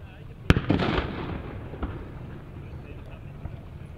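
A ceremonial salute gun firing at the 2018 Banntag in Birsfelden, Switzerland: a sharp, loud bang followed by a rumbling echo and crackling, then a few fainter distant pops over outdoor background noise.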